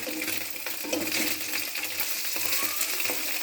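Small fish frying in a pan, a dense crackling sizzle close up with light spatters and occasional clinks from the pan.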